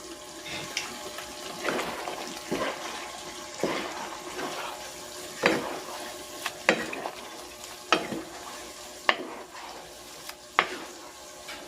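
Carrots and green beans stir-fried in a pan for sotanghon guisado, with a steady sizzle broken by repeated sharp scraping stirs of the utensil against the pan, close and moderately loud, with no talking.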